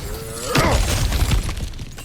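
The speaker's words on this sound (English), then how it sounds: "back to smashing through things for fun and profit" Breakable objects shatter in the video game God of War Ragnarök, a loud crash of splintering debris followed by scattered rattling pieces.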